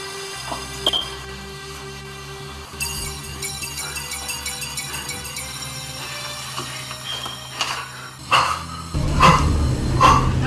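A voice imitates a dog barking in a scene from a Nigerian Nollywood film, with short bark-like yelps over a sustained musical background that grows louder and busier toward the end.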